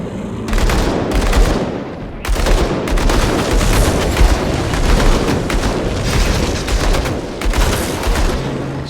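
Dense, loud gunfire from two guns in Grim Dawn Definitive Edition on Xbox Series X, a nearly continuous barrage of rapid shots and impacts with brief pauses, no talk.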